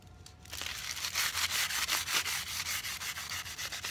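Crumpled aluminum foil with Meguiar's detailing spray scrubbing rust off metal, a close, gritty rubbing that starts after a brief pause and continues in quick, rhythmic back-and-forth strokes, loud and steady with no talking.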